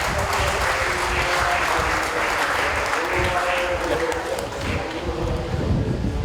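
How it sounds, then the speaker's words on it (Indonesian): Loud, sustained clapping from a crowd at an outdoor Indonesian Independence Day celebration, with voices mixed into the applause throughout. "Tepuk tangan yang meriah."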